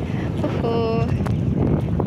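Wind blowing across an open rural farm with ponds and grazing pigs, ducks, chickens, goats and cattle, a steady low rumble and buffeting against the microphone throughout, with a brief tonal whine partway through and faint voices underneath.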